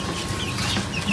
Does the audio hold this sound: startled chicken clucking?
yes